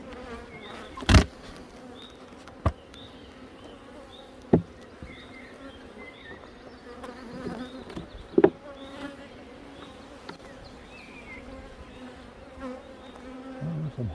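Honeybees buzz steadily around an open hive on a weak colony with a single queen, a continuous close drone of wings with a few sharp knocks and clunks from frames being handled.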